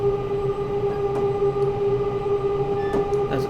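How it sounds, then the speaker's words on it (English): Electric suburban train in Train Simulator 2020 on the London Euston to Watford Junction route, with a steady loud hum and rumble of traction motors throughout and faint metallic clicks over the continuous drone. "As our train departs, this one will arrive."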